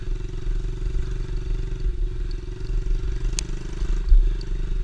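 A motorcycle engine runs steadily in the woods with a low, throbbing drone and faint clattering, close and continuous with no talk.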